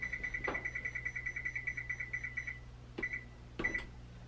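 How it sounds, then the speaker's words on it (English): Electronic oven control panel beeping while preheating to 500 degrees, a long run of rapid even beeps followed by two short separate beep bursts, clear and close with no talking. "the first thing I'm gonna do is preheat this oven to 500 degrees"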